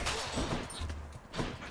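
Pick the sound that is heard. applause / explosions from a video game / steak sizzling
explosions from a video game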